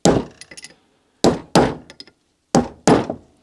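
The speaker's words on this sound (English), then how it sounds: "I'm just going to tap it out gently, changing from side to side." Hard metallic hammer taps in small clusters separated by pauses, each strike ringing briefly, close and loud, as a bearing race is tapped out of a MINI Cooper 1275 hub.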